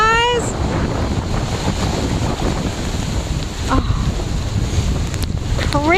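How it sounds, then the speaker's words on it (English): Wind buffets the microphone in a steady loud roar on a rainy, windy day at the Santa Cruz seaside boardwalk, with surf in the background and excited voices and whistling tones over the top. "it is just pouring windy, rainy"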